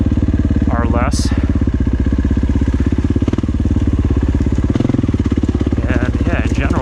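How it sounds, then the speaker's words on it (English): KTM dirt bike engine revving lightly, a loud, close, steady rapid thumping idle with small rises in pitch, under someone talking. "You can hear me how little I'm revving it"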